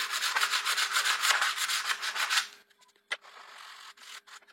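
Rapid back-and-forth scraping of sandpaper on wood, close and rhythmic, stops abruptly, followed by a few small knocks and quiet handling sounds.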